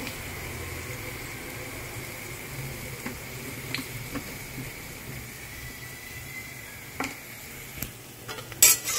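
Browned onions with turmeric in a pan, stirred with a utensil: a quiet steady sizzle with a few soft scrapes and taps, louder clinks near the end, no talk.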